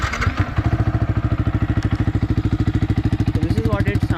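A Yamaha R15 v3 motorcycle fitted with an aftermarket Akrapovic exhaust idles steadily close by. It gives a rapid, even low-pitched thump that keeps going throughout, with a brief brighter rev near the start.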